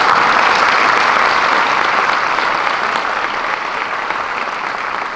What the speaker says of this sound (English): Please give them a round of applause if you could.